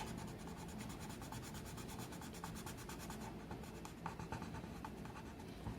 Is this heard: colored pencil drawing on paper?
yes